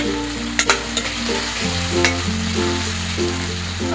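Ginger garlic paste fries with onion and tomato in a pan, giving a loud, close, steady sizzle with a few sharp utensil knocks near the start and stirring scrapes throughout.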